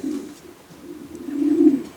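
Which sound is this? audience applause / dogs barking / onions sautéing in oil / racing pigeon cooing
racing pigeon cooing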